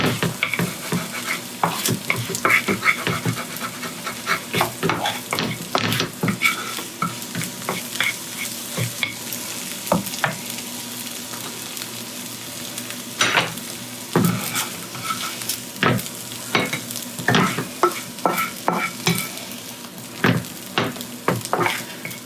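Beef fried rice made from leftover ingredients, stir-fried in a pan: a continuous sizzle broken by frequent rhythmic scrapes and clacks of the spatula, close up, with busier bursts of tossing toward the end and no speech.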